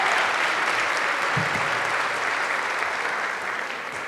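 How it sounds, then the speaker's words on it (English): Steady applause from a crowd at an awards ceremony, dense clapping filling the whole stretch and easing off slightly toward the end. "So let's give them another round of applause."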